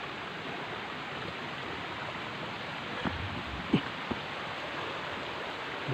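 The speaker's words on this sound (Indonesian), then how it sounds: "Dan di sebelah kiri air mengalir" A mountain stream flows steadily beside a hiking trail on a forested volcano slope, giving a close, constant rushing wash with a few faint knocks and no talk.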